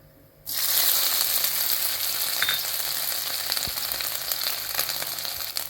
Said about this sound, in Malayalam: ഒരു എട്ട് പത്ത് വെളുത്തുള്ളി ഒന്ന് കീറിയെടുത്തതാണ് അതും ചേർത്തെടുക്കാം രണ്ടും ചേർത്തിട്ട് ചെറുതായിട്ട് ഒന്ന് വഴറ്റിയെടുക്കാം